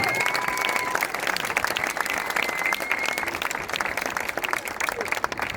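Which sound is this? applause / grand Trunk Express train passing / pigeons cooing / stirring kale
applause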